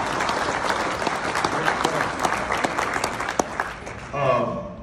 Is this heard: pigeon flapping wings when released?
no